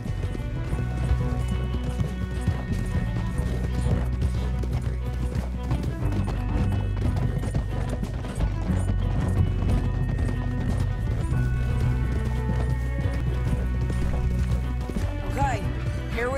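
Horse hooves clip-clop steadily in the video game Red Dead Redemption 2, a continuous trotting rhythm with occasional snorts, mixed under game music and someone talking throughout.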